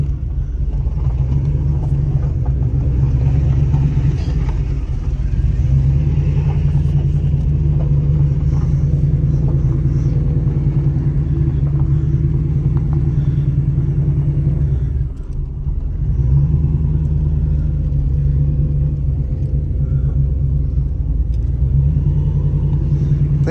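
A car engine fitted with big cams idles and runs with a deep, throaty, continuous rumble, loud and close, holding steady for over twenty seconds with one brief dip and no talking.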